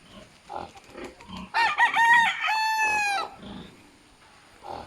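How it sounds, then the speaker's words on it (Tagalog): A rooster crows loudly and nearby at a farm in Laguna with many chickens, one long drawn-out call over soft clucking and low background sounds. "Ang daming manok dito."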